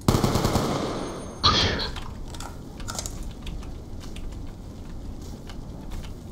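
Black Ops 2 gunfire starts with a loud rapid burst, then a sharp second volley, fading into scattered clicks and lighter shots.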